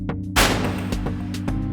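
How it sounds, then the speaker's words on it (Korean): A single sharp gunshot from the Russian roulette scene at the end of Squid Game Season 2 cracks out loudly over a low, steady musical drone. "총소리가 나는 거죠."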